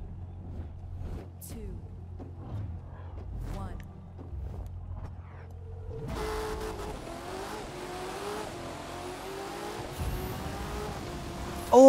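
Quiet engine idle with faint clicks, then a mid-engine C8 Corvette roars up in The Crew 2 video game in the rain, pitch climbing through gears with tire noise, steady and fairly loud.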